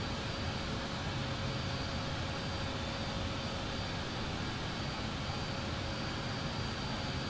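Airbus A220 jet engines roar steadily at full takeoff thrust, a dense, continuous broadband rush with a faint steady tone running through it, heard from inside the aircraft with no gaps.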